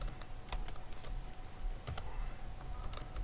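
Quick clicks from a computer keyboard come in short irregular bursts of keystrokes separated by brief pauses. The typing sounds close but quiet against a soft background hiss.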